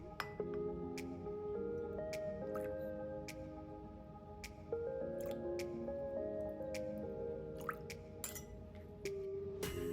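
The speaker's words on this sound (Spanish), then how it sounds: "También nos vamos con 4 cucharadas de vinagre de arroz." Small amounts of soy sauce and rice vinegar poured from a spoon into a bowl for a tuna sashimi sauce, heard as soft repeated drips, squishy liquid splashes and faint clinks over a steady low background.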